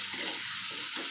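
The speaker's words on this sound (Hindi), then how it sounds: "अब इसको हम तड़के को पूरा भुनेंगे" A steady, close sizzle of a tomato and spice tempering frying in hot oil, with faint soft stirring underneath and no talking.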